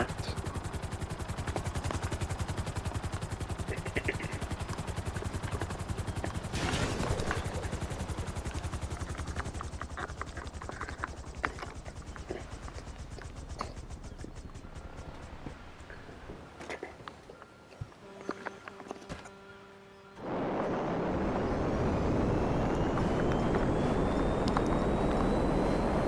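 A personal aircraft arrives in the video game GTA Online with a steady, loud engine roar that thins out, dips briefly near the end, then surges back at full strength.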